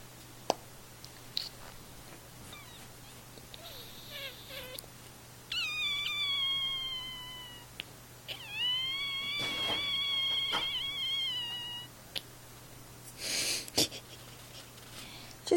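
A house cat lets out a few drawn-out, wavering meows and yowls indoors, faint and close, with quiet rustling and brief clicks in between.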